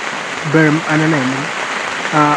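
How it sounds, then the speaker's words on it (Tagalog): Steady heavy rain at a Philippine campsite in Bailen, Cavite, drumming as a continuous broadband hiss on and around a camper van, with people talking over it throughout. "talagang ganito yung malalakas na ulan"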